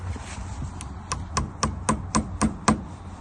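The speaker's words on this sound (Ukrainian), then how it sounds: "Тепер беремо цвях. Забиваємо." An old rusty nail, roughly 80 mm, is hammered into adobe with a steady series of about eight sharp, close knocks that grow louder and more evenly spaced toward the end.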